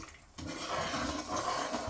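Water pours into a pan of ghee and sugar with a steady hissing, sizzling wash. It follows a brief quieter moment and continues strongly to the end.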